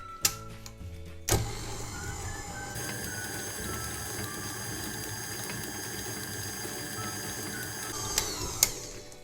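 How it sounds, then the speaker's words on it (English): An electric mixer beats cupcake batter at medium speed, a steady mechanical whir that kicks in after a few clicks and runs continuously, close and moderately loud, with a couple of knocks near the end; no voices. "I am, like I said, going to mix it for about a minute at a medium speed"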